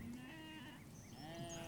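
Sheep bleating on an urban city farm in London's Docklands, a few wavering calls layered at moderate distance over steady outdoor background noise, with no one speaking.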